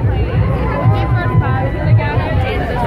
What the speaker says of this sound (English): It's a good crowd though.